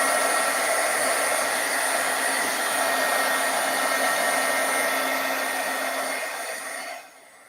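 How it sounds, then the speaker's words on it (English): Heat gun blowing to dry alcohol ink on vellum, a steady loud close whooshing roar that holds for several seconds and then cuts off at the end. "I'm actually going to give it a little helping hand, my heat gun."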